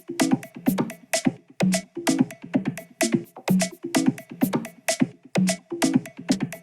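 Tech house percussion group of rolling drum loops: a tight, repetitive pattern of punchy hits and clicks in a steady driving groove, dry and upfront with no voices.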